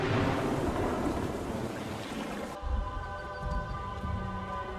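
Wind blows across an animated outdoor scene, a loud, broad gusting rush that drops away midway to a softer, airy breeze with a faint tonal hum.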